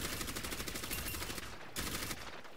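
Rapid automatic gunfire in the Overwatch video game, a dense stream of sharp shots with a brief pause before another burst, loud and close with no talk over it.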